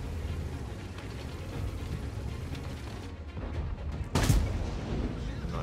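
Tank cannon fire in the World of Tanks video game, with steady battle rumble and one sharp, loud blast near the end, heard with no talking.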